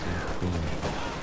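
Dense gunfire in Company of Heroes 2, a World War II strategy game, with rapid overlapping shots and bursts packed into a brief, loud stretch set in a forest battle.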